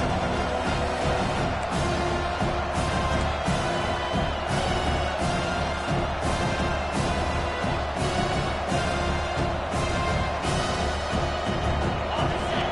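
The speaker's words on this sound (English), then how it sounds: "This crowd bringing the energy and noise early." Continuous roar of a large American football stadium crowd, steady and dense throughout, with a broad wash of voices and no distinct words.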